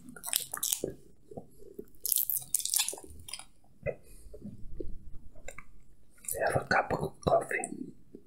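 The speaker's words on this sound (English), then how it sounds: "was thinking to eat a chocolate" Chocolate being chewed close up produces soft wet crunches and squishy mouth clicks in irregular bursts between quiet pauses, with faint whispered speech in places.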